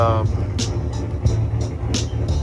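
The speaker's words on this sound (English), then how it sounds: "there's a Tahoe or a Yukon across the street chopping away" A Chevrolet Tahoe or GMC Yukon engine idles with a choppy, lumpy beat across the street, a steady low rumble heard at a distance while a person talks nearby.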